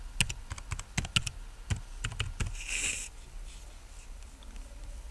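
A computer keyboard clatters as a password is typed, with about a dozen quick, light key presses in an uneven rhythm, then a brief soft hiss and quiet room tone.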